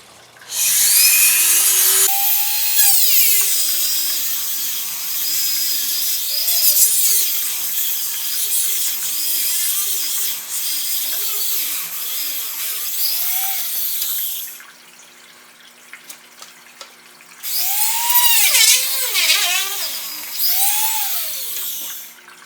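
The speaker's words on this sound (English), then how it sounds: "if we take a Dremel and we score this right here" A Dremel rotary tool scores the glass of an aquarium brace near its silicone seal. It gives a steady, piercing high whine that runs for a long stretch, breaks off, then returns in shorter bursts.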